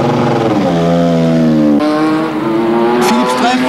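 A Ligier Formula 1 race car at Monza screams past, its high engine note climbing through gear changes, loud and close, with a voice talking over it.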